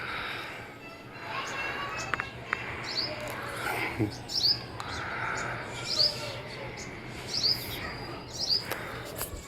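Brief, high chirps from a house sparrow repeat every second or so, fairly faint, over a low murmuring background with distant voices.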